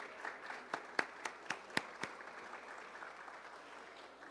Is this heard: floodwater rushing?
no